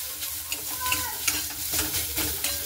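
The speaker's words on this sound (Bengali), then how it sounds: "এবার খুব ভালো মতো করে একটু নাড়াচাড়া করে নেব।" Radish greens with salt and turmeric being stirred in a pan, a steady sizzle of frying under repeated scraping and clinking of the spatula against the metal, close and without talk.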